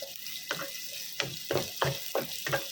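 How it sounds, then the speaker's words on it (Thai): Lemongrass stir-fried in hot oil in a Teflon pan, giving repeated bursts of crackling sizzle with scraping stirs about every half second, close and moderately loud with no talking. "พอน้ำมันร้อนได้ที่เราก็เอาตะไคร้ลงผัดให้สุกหอมค่ะ"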